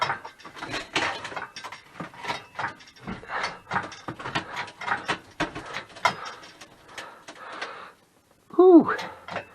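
Metal parts on an old car creak and groan under strain, with rhythmic clicks and scrapes close up and a sharp squeal near the end, mixed with talking.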